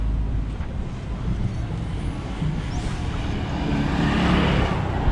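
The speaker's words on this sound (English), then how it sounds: "You're in traffic." Road traffic rumbles steadily past pedestrians walking on a street without sidewalks in Sibonga, Cebu, a continuous low engine drone with a vehicle swelling nearer toward the end, under wind noise.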